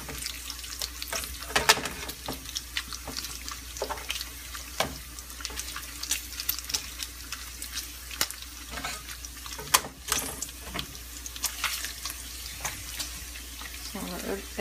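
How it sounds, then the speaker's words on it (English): Eggs cooking and being stirred in a pan for a low-carb breakfast, giving a steady soft sizzle and scraping under continuous hiss, with occasional sharper clicks of the utensil against the pan. "So the eggs are cooking good, nice and fluffy. You want to keep stirring those babies or it can get caked up on the bottom"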